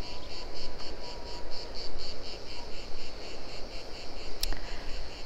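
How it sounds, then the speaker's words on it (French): Crickets chirp steadily near the ocean, a dense, pulsing high-pitched trill that continues throughout at moderate loudness over a soft, low surf-like rumble, with no talking. "Et il y a les grillons."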